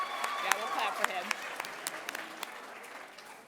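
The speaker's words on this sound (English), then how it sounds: "clap for him." Audience applause at a middle school awards night fills a hall with steady, dense clapping, moderately distant, with a few sharper claps standing out and faint voices murmuring underneath.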